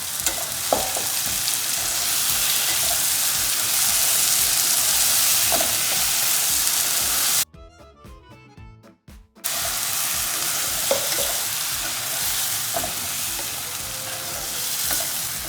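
Tomato paste sautéing in a pan for red sauce pasta, a loud close steady sizzle with occasional stirring clatter, interrupted briefly by a short stretch of quiet music before the frying resumes.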